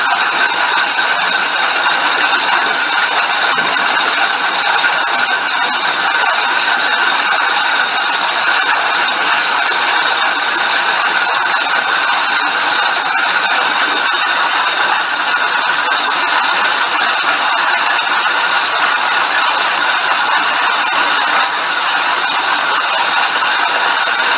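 Highland Park high speed sphere machine grinding stone into a sphere, a steady continuous whirring grind with a bright, hissy edge, loud and unbroken throughout with no talking.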